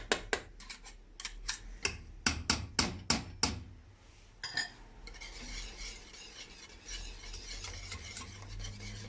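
A spoon stirs muhallebi milk pudding in a pot after a packet of vanilla goes in. Close, rhythmic scraping strokes come quick and evenly spaced at first, then turn into a denser, continuous scraping. No one speaks.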